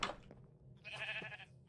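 A sheep in the Minecraft video game gives a single wavering bleat, fairly quiet, over a low murmur of game background sound.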